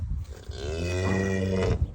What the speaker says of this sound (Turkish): Bu inek burada.